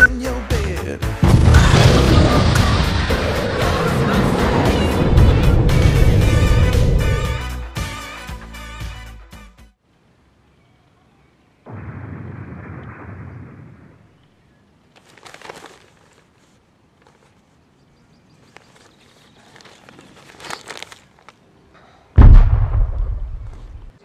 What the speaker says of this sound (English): The bomb has been planted. Captain, blow it up!